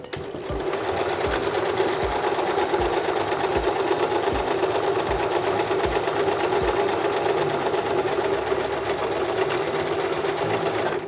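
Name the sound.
sewing machine stitching a quarter-inch seam on a fabric face mask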